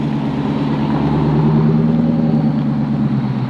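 A Lexus car pulls away in a steady, loud engine rumble that holds close and even for a few seconds before easing slightly, with no talk over it.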